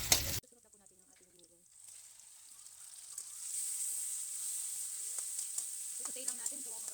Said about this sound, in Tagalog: isusutain natin yung sibuyas at bawang